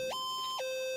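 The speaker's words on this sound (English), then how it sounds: "It's the fire alarm." A loud electronic alarm in the Bigfoot game, identified as a fire alarm, sounds alone in a close, steady two-tone wail that steps up and back down in pitch.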